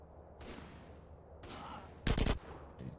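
Gunfire in the video game GTA San Andreas, a short heavy burst of rapid shots near the two-second mark, with a smaller shot at the end, over steady game noise.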